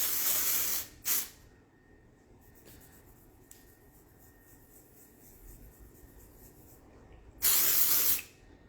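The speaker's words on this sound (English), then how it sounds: "I'm going to spray on here and then give it a rub" Dry shampoo aerosol hisses onto a hand in short close bursts: one long spray, a quick second puff, a long quiet gap, then a final strong spray near the end.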